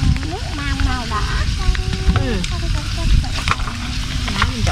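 Fish is stirred and cooked in caramel sauce in a pan, giving a steady close sizzle and crackle that runs beneath people talking.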